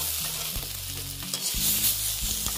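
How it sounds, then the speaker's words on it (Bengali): Par-boiled potatoes frying crisp in hot oil in a pan, a continuous loud sizzle with low rumbling hum and a few stirring knocks; no voices. "আলুগুলো আমি দেখো বেশ কড়া করে ভেজে নিলাম"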